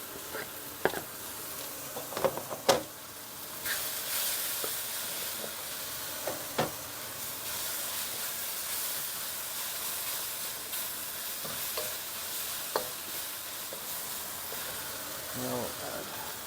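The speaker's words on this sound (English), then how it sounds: "Now we will add the ginger and garlic." Ginger and garlic stir-fried in a wok with sliced pork and Chinese green chives, giving a steady sizzling hiss throughout with a few sharp clatters and scrapes, mostly alone and fairly quiet.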